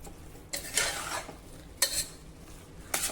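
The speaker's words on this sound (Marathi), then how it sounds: "दोन मिनिटांसाठी आता ह्या मसाल्यांमध्ये हे छोले आणि तांदूळ आपल्याला जरा परतून" Cooked chickpeas and raw rice sautéed in spices, with three close bursts of spatula scraping against the pan over a faint background sizzle and no voices.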